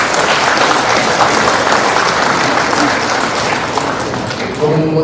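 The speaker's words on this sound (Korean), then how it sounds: "여러분이 위로와 격려와 감사의 박수를 먼저 보내주실 것을 요청드립니다" Audience at a Korean constitutional association election applauding the candidates, dense sustained clapping filling the room loudly and evenly throughout, tapering slightly at the end.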